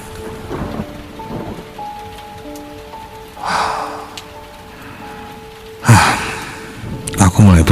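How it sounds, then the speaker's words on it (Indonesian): Rain pours at midnight with rumbles of thunder swelling in bursts, a steady hiss of falling drops underneath and tonal background music layered over the storm. "hujan turun di tengah malam itu"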